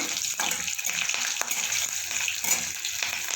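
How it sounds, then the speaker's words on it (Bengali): Cumin seeds, bay leaf and green chillies sizzling in hot oil as a tempering, a steady close crackle with small pops and a light stir. "ফোড়নটা একটু ভাজা ভাজা করে নেবো"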